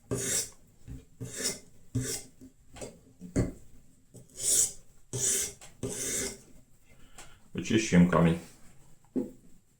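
Fox Smarty Black knife in N690Co steel being sharpened on a 400-grit diamond stone in a Hapstone guided system, giving repeated rasping strokes in bursts, close and moderately loud, with a few pauses between passes.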